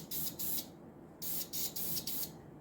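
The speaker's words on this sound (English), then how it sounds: "Let's spray a little bit of paint out on a test piece." Paint spray gun hissing in several steady bursts onto a test piece, close and loud, with short pauses between each spray.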